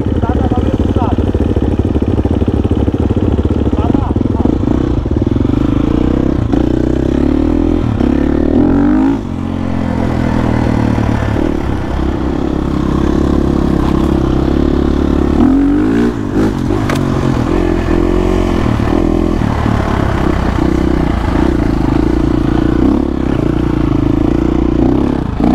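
A new 2023 GasGas 300 TPI enduro motorcycle two-stroke runs continuously nearby, its engine droning and revving with clattering and scraping over rough mountain terrain, under occasional talk.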